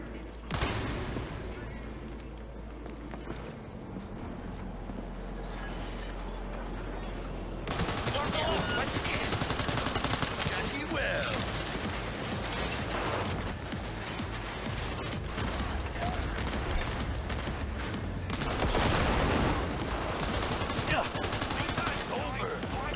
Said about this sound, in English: let's go guns blazing now